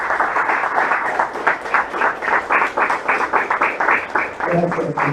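A church congregation applauds after a prayer, clapping in a lively, roughly rhythmic pattern that sounds close and full, with a voice emerging briefly at the end.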